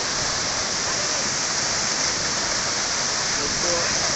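Tiger Point waterfall in Mainpat, Chhattisgarh roars as a dense, unbroken wash of falling water, steady and loud throughout, heard close with no breaks or voices.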